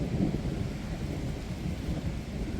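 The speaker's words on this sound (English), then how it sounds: "So it is raining, but it's not heavy." A thunderstorm with light rain at a lakeside in France: a continuous low rumble of thunder over a soft, steady hiss of rain, fairly quiet and distant, with no voices.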